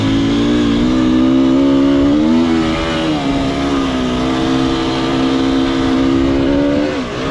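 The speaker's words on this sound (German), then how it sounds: "Mit dem ersten Gang Vollgas." A motorcycle held at full throttle in first gear on a Pyrenees mountain route, its engine roaring loud and steady close by for the whole stretch, pitch wavering slightly as the revs hold high.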